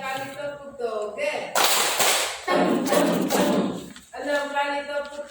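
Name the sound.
group clapping chant 'tepuk toge'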